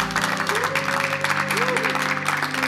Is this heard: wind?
no